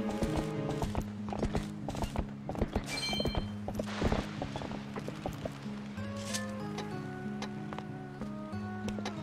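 A horse gallops in The Legend of Zelda: Twilight Princess, its quick, rhythmic hoofbeats pounding over game music, with a brief whinny partway through.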